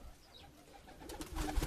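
Pigeons in a loft coo softly at close range, a few low murmuring calls that build toward the end amid faint rustling and movement.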